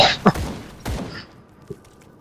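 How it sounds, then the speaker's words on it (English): Gunfire from the player character in the video game Grim Dawn, aimed at a wall: a sharp shot opening the clip, a second booming shot a moment later and a faint thump near the end. "my guy's trying to shoot through the wall"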